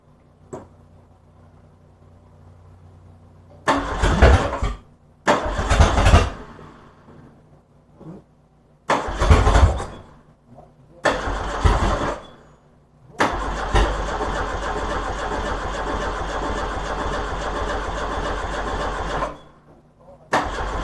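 A Ford Pinto engine cranks in several loud separate bursts of starter churning, then catches and runs steadily at a close, rough idle.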